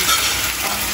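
Pork steak sautéed and stirred in a pan gives a steady close-up sizzle with faint scraping, continuous and even throughout, with no talking.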